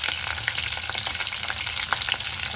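Green chillies and long-cut onions frying in a new clay pot for vegetable biryani, a dense, loud, continuous sizzle with crackling pops throughout and no talking.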